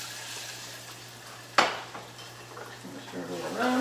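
Chopped onions added to a pan with bacon and stirred, a sharp clank of utensil on pan followed by soft sizzling and scraping, heard close and fairly quiet.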